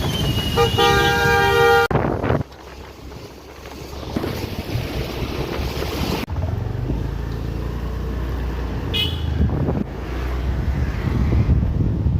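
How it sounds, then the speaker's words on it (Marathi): Busy road traffic rumbles steadily with wind buffeting the microphone, and a loud car horn toots several times near the start. "आमच्या इथं ट्रॅफिक बघा किती आहे"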